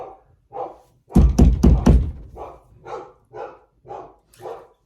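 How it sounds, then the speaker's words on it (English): A dog barks repeatedly in short, evenly spaced bursts, with a cluster of heavy thumps partway through, fairly close by. "Now my dog is barking."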